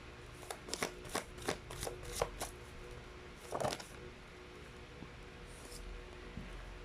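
Tarot cards being shuffled in quick, close riffling bursts, followed by a short pause and one more brisk flurry as a card is drawn, quiet room otherwise.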